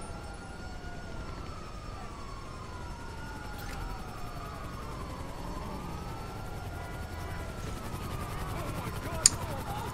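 A police car siren wails in a video game, its rising and falling tones sweeping steadily through the whole stretch over a low constant rumble, with a brief sharp click near the end.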